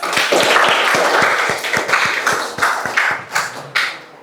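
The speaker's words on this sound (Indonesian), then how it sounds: "beri aplaus" An audience in a small room applauds with a close, loud burst of clapping from a modest group, with irregular claps thinning out toward the end.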